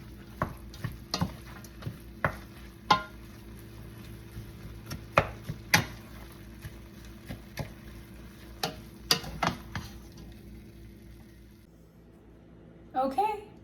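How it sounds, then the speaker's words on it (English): Onion and beef with salt stirred in a pan for enchiladas, giving a low, faint sizzle broken by repeated sharp spoon clacks and scrapes against the pan, with a louder clatter near the end. "we're just gonna mix it all together until the onion is soft and the meat is cooked"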